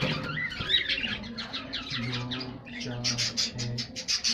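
A pair of pet budgerigars in a home breeding setup chirps and chatters, quick bright twittering calls close by, with a voice speaking over them.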